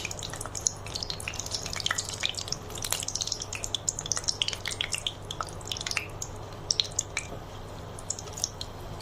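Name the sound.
dried red chilies frying in hot mustard oil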